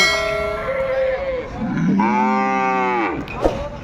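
A calf at a cattle market in Palamaner lets out a long, loud moo close by, with a fainter low bellow before it and a metallic clang near the end.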